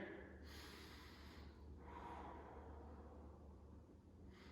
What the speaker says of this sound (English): So what you can do is practice some breathing here.